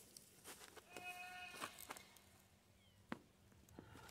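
A goat bleats in short, harmonic-rich cries near a workspace, sounding at moderate distance over faint background clatter and a few sharp knocks.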